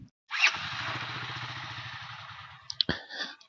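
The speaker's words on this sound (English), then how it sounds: "The engine sounds really good" A Honda GL500 motorcycle engine runs for about two and a half seconds with a steady, close, throbbing rumble, followed by a couple of sharp clatters.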